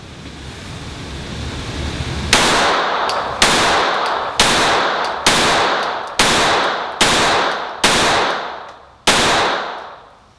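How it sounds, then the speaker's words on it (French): Eight loud, sharp pistol shots from a Glock 44 in .22LR fired at a 15-metre range, spaced roughly a second apart, each crack trailing off into a brief echo. "Donc Glock 44, là on va tirer à 15 mètres."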